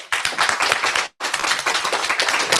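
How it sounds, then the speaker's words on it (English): Audience applause after a mathematics talk at an ignite-style event: dense, steady clapping from many hands close by, with a brief break midway before the clapping resumes, no talk over it. "So I think they deserve a round of applause for that."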